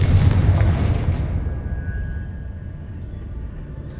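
A Confringo spell bursts in Hogwarts Legacy during Charles Rookwood's trial as a loud, close explosive boom. Its rumble slowly fades over several seconds, leaving a faint ringing tail.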